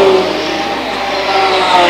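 A race car roars past the start-finish line during an endurance series race, engine loud and steady throughout, heard from trackside without voices.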